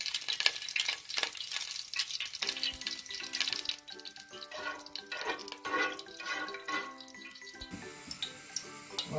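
Ghee and oil sizzle and crackle steadily in a hot pot for a Sylheti beef akhni biryani, with close, continuous frying hiss, some stirring and clinks, and background music throughout.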